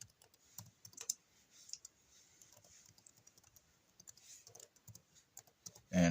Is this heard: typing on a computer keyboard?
yes